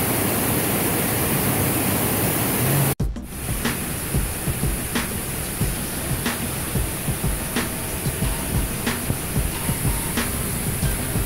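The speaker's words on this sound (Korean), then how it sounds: "여기까지 그냥 폭포네." Mountain waterfall on a hiking trail in the White Mountains, New Hampshire, a loud constant roar of falling water, broken once by a sharp break and followed by faint regular ticks.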